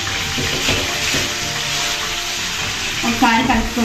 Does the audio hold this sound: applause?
no